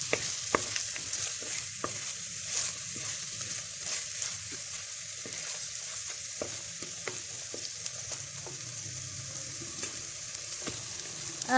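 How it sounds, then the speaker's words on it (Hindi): Garlic, ginger and green chili frying in oil in a pan, a steady close sizzle broken by frequent scraping and clinking strokes of a spoon stirring, with no talking. "लहसुन अदरक हरी मिर्च अच्छे से फ्राई हो रहा है।"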